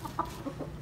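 Aseel rooster on a farm in Mianwali, clucking in a few soft, short calls over a steady low background hum, fairly close and moderately quiet.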